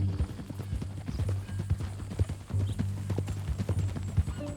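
Horse hooves clip-clopping in Red Dead Redemption 2, a steady rhythmic trot of distinct clops under a low hum, with faint game ambience throughout.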